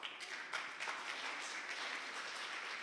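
Faint, distant clapping from an audience at a software engineering tech talk on monorepo migration, a brief, soft patter of applause lasting a few seconds.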